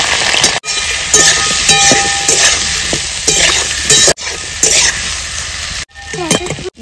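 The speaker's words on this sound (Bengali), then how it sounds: "তেল গরম হয়ে গেছে, কেটে রাখা বেগুনগুলো দিয়ে দেবো।" Cut eggplant pieces fry loudly in hot mustard oil in a wok, giving a strong continuous sizzle broken by brief pauses and stirring clatter.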